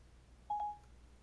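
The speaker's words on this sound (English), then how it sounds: "Calling John Doe. Home" A short, clear electronic tone on an iPhone 5C as a voice assistant places a call, one steady beep of under half a second heard faintly against quiet background.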